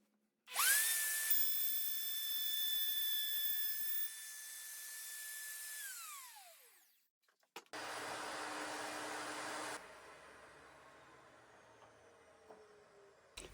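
A high-pitched power router whines up and cuts a guitar truss rod slot steadily through wood for several seconds, winds down, then starts again for a second, rougher pass.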